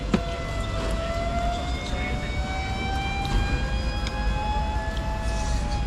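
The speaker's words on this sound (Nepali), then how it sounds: "एम्बुलेन्स छ, प्रे गरिदिउँ भनेको।" An ambulance siren wails steadily over loud, continuous traffic rumble on a highway, its tone sliding slowly upward and holding throughout.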